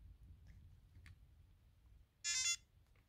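A GPS Bluetooth tracker, fixed into a 12-volt vehicle, gives one short, bright beep about half a second long when it is plugged in. The room is otherwise quiet apart from a low hum and a few faint clicks.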